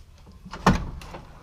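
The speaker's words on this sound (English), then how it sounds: "Coach doors." A coach door on a 1931 Plymouth swings and shuts with one solid, close thud, followed by a softer rattle of old hardware, with no talk.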